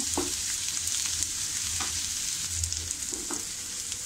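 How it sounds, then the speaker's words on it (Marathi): Onions sautéing in a pan until pink for paneer masala: a steady, close sizzle with occasional soft stirring scrapes, no voices. "आता आपला कांदा छान असा गुलाबी रंग होईपर्यंत परतून झाला आहे."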